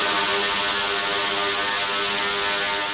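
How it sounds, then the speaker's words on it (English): An ultrasonic cleaner used for brass instruments running loudly and steadily, a constant hissing whir with a faint humming buzz, heard alone without pause. "We purchased a ultrasonic cleaner for the brass"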